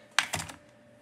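A computer keyboard is typed on, giving two or three quick, close keystrokes that die away into a faint steady hum.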